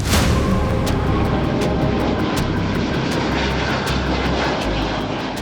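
Dreamliner airliner engines during takeoff near Ahmedabad, a loud, steady jet roar that holds without a break and drowns out everything else.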